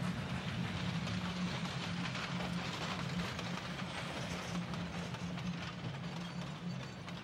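A narrow gauge steam locomotive hauling a freight train on the Rio Grande rumbles steadily past up close, its wheels clacking and grinding in a continuous mechanical roar with no voices.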